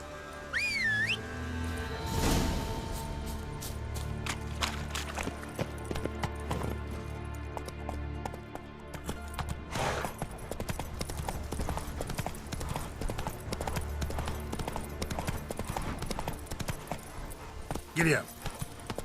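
Galloping horse hooves in The Witcher 3 beat out a fast, continuous rhythm under a music-like background, with a brief whistle near the start and another near the end.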